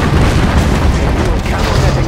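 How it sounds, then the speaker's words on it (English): Rocket artillery barrage in the Command & Conquer Generals Contra mod, a dense, continuous rumble of overlapping booms and blasts, loud and unbroken for the whole stretch with no clear gaps between impacts. "May I join in some rocket barrage?"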